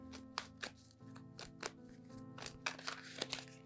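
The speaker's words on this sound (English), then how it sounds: "And then I like to shuffle until one falls out." Tarot cards being shuffled by hand in a series of quick papery riffles and slaps, close and fairly quiet, over a steady low background hum.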